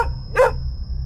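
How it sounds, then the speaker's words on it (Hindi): A single loud, close dog bark, one short sharp burst at night in a quiet village, over a low steady hum. "कुत्ता है बस, चल।"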